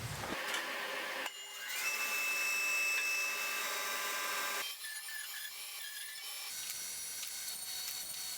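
A saw crosscuts oak timber for casement window rails, a steady rasping whir running for a few seconds with distinct start and stop, close and moderately loud in a quiet workshop.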